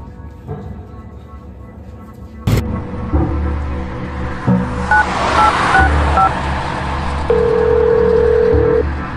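Mobile phone keypad tones: a string of short, evenly spaced beeps as a number is dialed, then one longer steady tone. A sharp click and low rumbling background noise run underneath.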